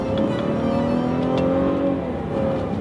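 A 2016 Cadillac CT6 engine revving as the driver works the paddle shifters: a loud, steady engine drone from inside the car, with the pitch climbing smoothly and then easing, and no talk.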